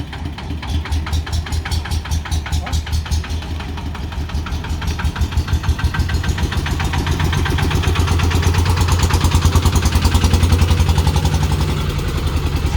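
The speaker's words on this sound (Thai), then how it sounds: "เป็นเครื่องสิบเอ็ดแรงนะครับ" An 11-horsepower engine on a cassava-hauling tuk-tuk runs loud and close, with a steady rapid thudding beat that holds throughout and swells slightly toward the end, heard alone without talk.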